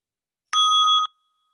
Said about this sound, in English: I'm going to ring the bell and lead you into the stillness for just a couple of minutes.